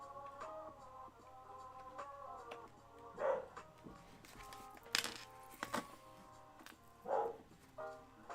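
A dog barks at the neighbours, a handful of sharp, separate barks at uneven intervals, fairly faint and set against a quiet room.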